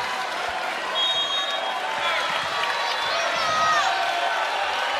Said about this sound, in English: Crowd gets a little louder here at LNN, trying to rally Louisville